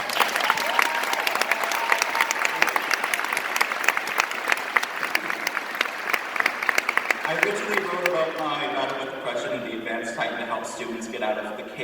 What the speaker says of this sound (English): Can you guys just give her a round of applause?